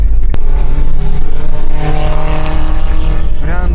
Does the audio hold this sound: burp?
no